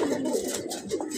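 A Budapest racing pigeon coos in short, soft, throaty pulses, close by, over a brief stretch with a faint trace of background voice.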